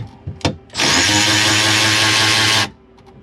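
A cordless power tool driving bolts on a 1992 Sea Ray 380 Sun Sport boat, a couple of short clicks and then a loud, steady motor whine lasting about two seconds before it cuts off, close up.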